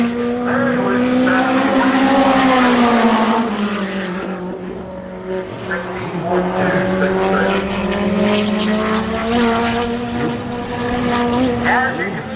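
Midget race cars lap a track at Winchester, Indiana, their engines droning loudly with rising and falling pitch as they pass through turns and down the backstretch, with several cars overlapping.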